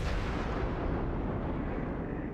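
The Myoko's 203 mm naval cannons fire in World of Warships, a single heavy booming blast that rolls out and slowly decays over a couple of seconds, with no voices.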